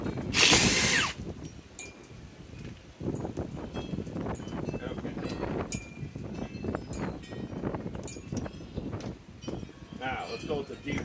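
A DeWalt XR DCF845 impact driver with a 1.7 Ah PowerStack battery runs at speed 3 against sheet metal, whirring and rattling in uneven bursts close by while people talk throughout.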